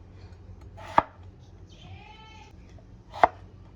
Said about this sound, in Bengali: এইভাবেই আমি সমস্ত আলু আর পটলগুলোকে খোলা ছাড়িয়ে ছোট ছোট টুকরো করে কেটে নিলাম